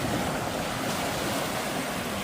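Simulated waves churn in a resort pool, a steady, loud wash of broadband water noise that rolls on continuously without pause or voices.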